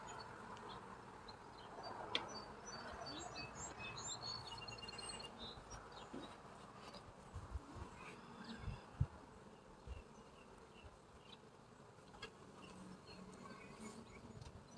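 Honey bees droning around an open hive during a weekly farm inspection, a soft, continuous buzz with occasional louder passes near the microphone and faint handling knocks, with no voices.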